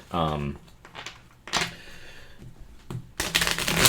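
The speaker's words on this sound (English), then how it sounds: "It definitely overhand shuffles really nicely because it's not sticky." A thick mass-market tarot deck is shuffled overhand in several short, crisp riffling bursts of cards, separated by pauses, with a voice speaking briefly at the start.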